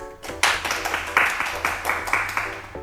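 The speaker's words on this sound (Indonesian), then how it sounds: "Tepuk tangannya dong." Audience clapping at a school introduction session, a burst of many hands applauding close by in a fairly dense, steady patter over a low background hum, lasting a few seconds.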